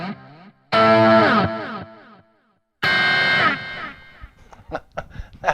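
A Stratocaster fitted with Texas Special single-coil pickups runs through a high-gain amp channel, ringing out two loud, distorted, sustained chords that each cut off abruptly, followed by a few short, choppy muted stabs.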